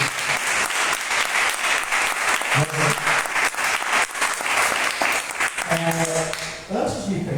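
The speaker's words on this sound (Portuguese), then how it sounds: "Dá salve de palmas para Jesus." Sustained applause from a church congregation fills the space, steady and loud throughout, with voices shouting and a few sung or called notes rising over the clapping near the middle and end.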